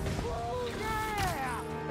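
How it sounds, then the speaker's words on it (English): Fireworks go off in the video game Spider-Man 2, with rising whistling tones and dull bursts layered together over about two seconds under busy game sound. "Oh, it's the firework thing, huh?"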